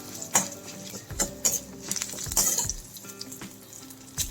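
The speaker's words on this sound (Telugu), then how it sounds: "తాలింపు ఎప్పుడు ఎర్రగా వేయించుకోవాలి" Tempering spices and curry leaves fry in hot oil for a coconut chutney, giving a close, steady sizzle with sharp crackles and pops and a few utensil knocks.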